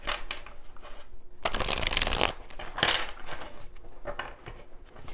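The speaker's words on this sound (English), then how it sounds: "I like to give them a little shuffle just to mix up your energy" Close, crisp riffling and shuffling of a deck of tarot cards in several bursts, with soft handling noises between them.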